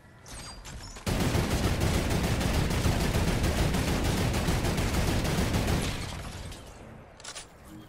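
A sniper shot rings out in a video game, giving way to a sustained loud burst of rapid gunfire and crackling that fills several seconds before tapering off, with quieter game noise on either side.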